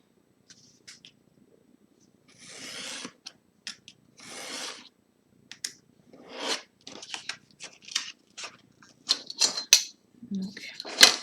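Scissors cutting paper for a handmade paper calendar, with short crisp snips and longer sliding cuts coming in irregular bursts, close and fairly quiet, with a few faint handling noises.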